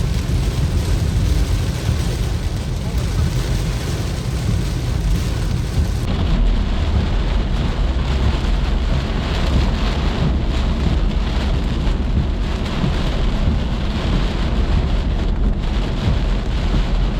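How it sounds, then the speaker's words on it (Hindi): Very heavy rain pours down in a continuous dense roar with a low rumble beneath, loud and unbroken throughout. "बहुत शदीद बारिश"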